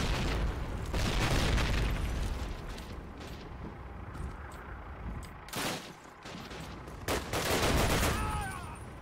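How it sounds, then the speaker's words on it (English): Explosions and gunfire from the World War II shooter Call of Duty with its United Offensive expansion, loud broadband blasts near 1, 5.7 and 7–8 seconds over a constant rumble of battle noise and mechanical clatter. "Grenade."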